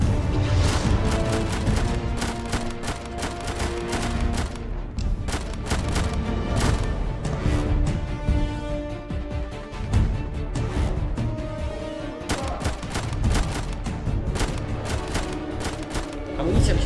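Video game gunfight with enemies shooting, dense rapid volleys of gunshots and booms in sustained bursts with a brief lull midway, loud and close.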